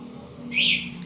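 A Bluetooth keyless motorcycle alarm gives a single short, bright electronic chirp that rises and fades over a faint steady hum in the background.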